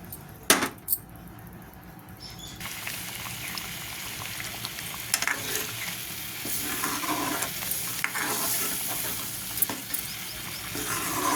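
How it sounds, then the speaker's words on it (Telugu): Ridge gourd milk curry simmers in a pan while being stirred, with steady close bubbling and sizzling and occasional spoon scrapes and clinks, no voices. "ఇది నిదానంగా సిమ్లో పెట్టుకొని దగ్గర పడేదాకా కర్రీ మనం కలుపుతూ ఉండాలి"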